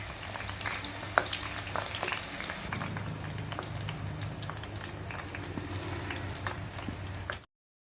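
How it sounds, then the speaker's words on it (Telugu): Long-sliced onions deep frying in hot oil for a pepper chilli fish masala give a steady, close bubbling sizzle with scattered pops and crackles, continuous and without talk until it cuts off near the end. "ఆయిల్ హీట్ అయిన తర్వాత పొడవుగా కట్ చేసుకున్న ఉల్లిపాయలను వేసుకుని గోల్డెన్ కలర్లోకి వచ్చేంత వరకు వేయించుకోవాలి."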